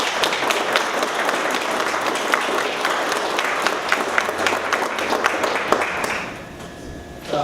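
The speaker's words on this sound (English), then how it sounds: "you all deserve a round of applause" A crowd at the grand opening of a drop-in center for homeless youth breaks into sustained applause, dense clapping for about six seconds that then fades out quickly.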